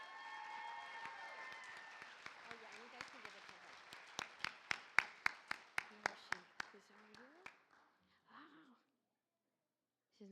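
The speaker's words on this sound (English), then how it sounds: "let's give a round of applause for Ms." Applause from the audience at a school board meeting rises from scattered clapping to a brisk burst of claps, then thins out and stops, with faint voices at the very end.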